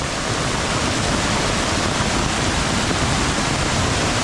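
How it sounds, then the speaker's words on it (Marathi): Heavy monsoon floodwater rushes through a rural stream channel in Konkan, a loud, dense, unbroken roar of churning water that holds steady and close throughout. "बघू शकता तुम्ही जबरदस्त पाणी आलं आहे वाळाला"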